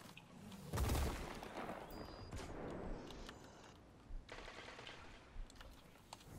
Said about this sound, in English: That is the slowest auto rifle ever.